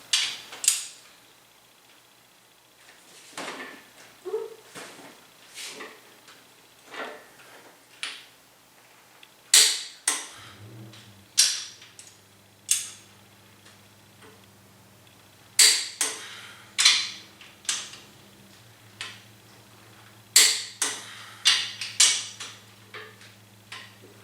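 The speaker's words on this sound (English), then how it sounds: "Now we're going to do the final torque sequence at 80 foot-pounds." Sharp, irregular clicks from a torque wrench tightening bolts to 80 foot-pounds during a 383 stroker engine assembly with the crankshaft fitted, loud and close in bursts, with a low steady hum joining partway through.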